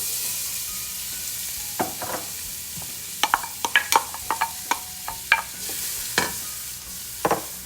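Onion hits shimmering hot oil in a skillet for chili and beans, a steady close sizzle punctuated by sharp scraping clacks of a utensil stirring, no voices.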